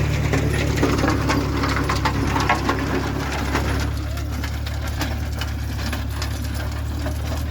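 An old Farmall tractor engine runs steadily close by, a constant low mechanical drone with rattling and crunching on top, while a person talks over it.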